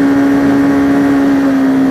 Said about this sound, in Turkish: Belki şu an motorun sesi fazla çıkıyordur ama idare edin.